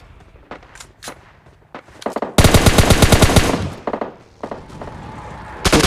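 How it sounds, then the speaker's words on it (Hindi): An enemy bot opens fire in a squad-versus-solo shooter video game: rapid, loud machine-gun bursts with dense repeated shots, preceded by scattered single shots and thuds, with brief pauses and a final burst. "और एक बॉट मुझे फायरिंग दे देता है"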